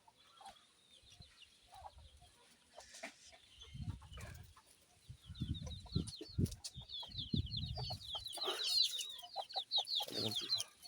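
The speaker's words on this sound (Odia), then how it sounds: "ଦେଖନ୍ତୁ ଦେଶୀ କୁକୁଡ଼ା ଚରୁଛନ୍ତି।" Native country chickens clucking while grazing outdoors, soft intermittent clucks and chatter at moderate distance, growing busier toward the end.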